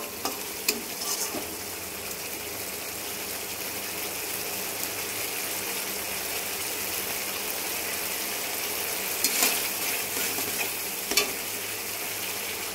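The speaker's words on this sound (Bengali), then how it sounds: "ধরো 1 মিনিট একটু নাড়ানাড়ি করি," Mustard masala for a pabda fish curry sizzles steadily in hot oil while being stirred, a continuous close frying hiss broken by a few sharp scrapes of the spatula against the pan, with no voices.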